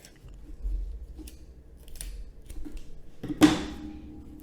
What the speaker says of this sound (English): Now go ahead and just cut your yarn off about maybe 6 inches.